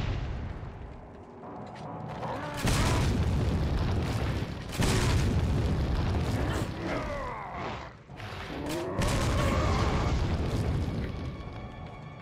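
Heavy explosions and crashing debris in the video game Resident Evil 4, several loud booms rolling into one another with rumbling and creaking in between, and no talking.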